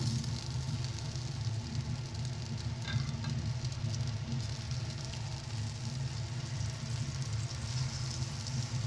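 Rice, lentils and fried vegetables sizzle in a pan for khichuri, giving a steady close frying hiss with a low rumbling undertone throughout.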